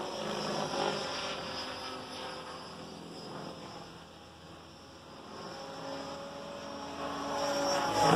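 Diabolo 600 RC helicopter flying outdoors at low rotor speed, a steady whining buzz with a high tonal hum that swells and fades as it passes, moderately distant with no talk.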